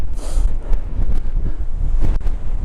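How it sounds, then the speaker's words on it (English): Strong wind buffets the microphone on a mountain summit, a loud continuous rumbling blast with gusty surges and a few sharp rustling bursts, no voices. "That wind is absolutely monstrous."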